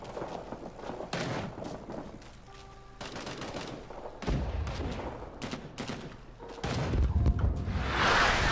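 Enemy artillery and gunfire in the Vietnam War shooter Rising Storm 2: Vietnam: heavy thuds and booming impacts hit in waves, the strongest about halfway through and near the end, amid scattered rifle and machine-gun bursts.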